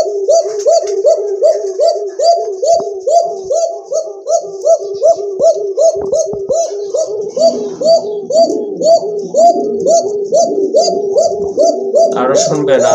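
A male pigeon, one of a pair offered for sale, coos loudly and close in a steady run of rhythmic, repeated rolling coos, with faint high chirps from other birds behind.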